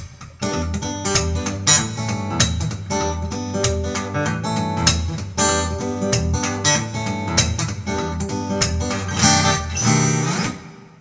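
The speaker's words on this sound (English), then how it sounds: "So the ghost notes I can do with pull-offs on my left hand here and clicks and pops" An acoustic guitar plays a busy rhythmic part, with chords mixed with ghost notes from left-hand pull-offs and sharp right-hand percussive clicks and slaps in a driving groove.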